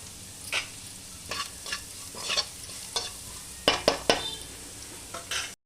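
A spoon stirs gram flour with turmeric and asafoetida in a hot pan, giving a faint sizzle broken by several scraping strokes, some clustered close together, with no talking.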